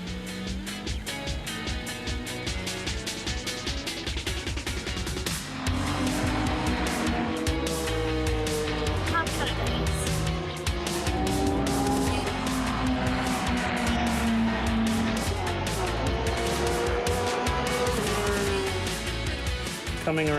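Race cars run on a racetrack, engines droning and whining as they pass amid a continuous loud crowd-and-track din, with voices talking over it throughout.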